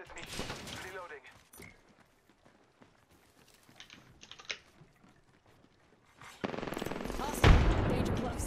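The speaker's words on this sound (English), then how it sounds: "Shots fired at me." Gunfire in the Apex Legends video game comes in rapid, crackling bursts, first near the start and then a louder, sustained volley near the end, separated by quieter stretches of game sounds.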